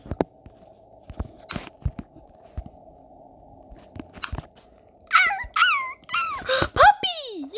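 A puppy whines in a series of rising and falling high-pitched whimpers near the end, preceded by scattered clicks and crunching chewing noises, with voices speaking nearby.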